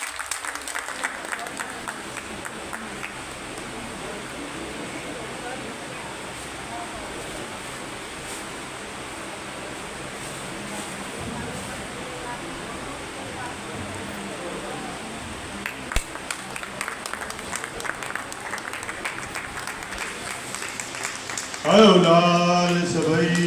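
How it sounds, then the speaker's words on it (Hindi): Steady, dense applause from an audience at a Sindhi community gathering in Delhi marking Partition Horrors Remembrance Day. It holds an even level for over twenty seconds before a voice briefly breaks in near the end. "एक बार तालियां बजा दीजिए इनके लिए"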